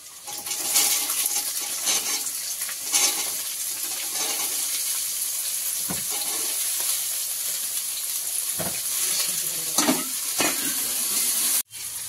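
Chopped vegetables stir-fry in a pan with garlic already fried in garlic butter for vegetable chow mein. A steady close sizzle runs throughout, broken by scraping stir strokes and a few sharp clinks.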